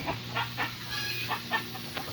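Soft, scattered clucks from a few meat chickens, short and irregular, heard at moderate distance over a low steady hum.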